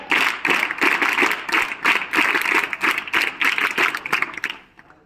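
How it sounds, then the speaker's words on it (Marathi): An audience of school students at a lecture claps their hands, a dense burst of applause that holds steady for about four seconds and then quickly dies away. "प्रचंड जे सर्व लोक क्लॅप क्लॅप त्या पद्धतीने वाजवा, क्लॅप क्लॅप."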